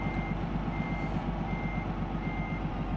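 Reversing beeps from a DAF XD truck in Euro Truck Simulator 2, a steady repeating electronic tone pulsing evenly over a continuous low diesel engine rumble, heard alone without talk.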